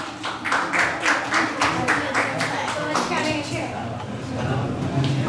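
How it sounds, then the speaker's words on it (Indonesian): An audience claps at a public arts presentation in Indonesia, a dense, steady patter of many hands filling the room, with some voices and a child's chatter mixed in. "Tepuk tangan semuanya."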